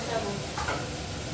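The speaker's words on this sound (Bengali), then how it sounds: "আলু বেগুনটাও মশলাটা কষাচ্ছি" Potato and brinjal sautéed with spices in oil in a pan, a short burst of steady close sizzling with a single stir of the spatula.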